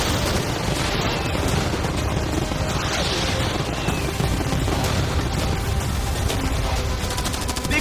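A barrage of cannons and fireworks fires at once at a cruise yacht, building into a continuous crackling, popping din of overlapping blasts with a steady rumble and no clear gaps.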